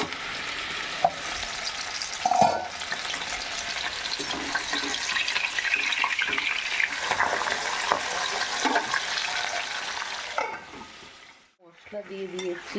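A ground cumin and coriander paste with ginger, garlic and chilli sizzles steadily in hot oil, with scraping stirs of a utensil against the pan throughout and a brief quieter pause near the end.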